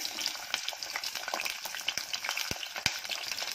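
Dried Bombay duck fish and curry leaves crackle and spit in hot oil, a close, busy frying sizzle punctuated by sharp pops, alone without speech.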